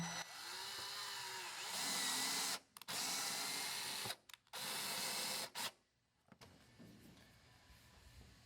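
A power drill drives screws into vinyl railing in several sustained bursts separated by short pauses, close and loud, then stops, leaving quiet background noise.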